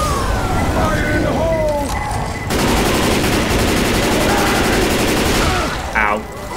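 Dense, continuous gunfire rattles loudly in a Left 4 Dead zombie co-op fight, with rapid automatic bursts and chaotic in-game noise, while players' voices shout over it.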